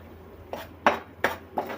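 Fish curry ingredients mixed in a wide pot with a metal spoon, four distinct clanks and scrapes against the pot at a slow, even pace over a low hum, close and fairly quiet, with no talking.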